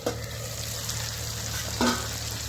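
Chicken frying in oil in a pan, with continuous close sizzling and a brief stir or scrape of the pan partway through.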